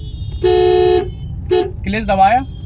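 A car horn honks in road traffic, first a long steady blast and then a short toot, heard close over low engine rumble, with someone talking right after.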